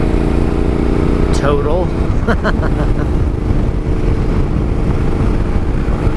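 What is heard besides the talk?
Yamaha Tenere motorcycle riding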